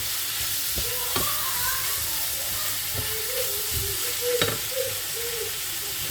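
Stuffed potatoes seasoned with mild pepper and parsley simmer in a pan, giving a soft, continuous sizzle and hiss with occasional louder pops and stirring clatter, fairly quiet and without talk.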